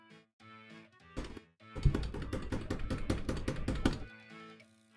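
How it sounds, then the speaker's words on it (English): Sanwa silent arcade buttons pressed in a quick run of soft, muffled clicks and thuds at close range, with no talking. "this is the sound of a Sanwa silent"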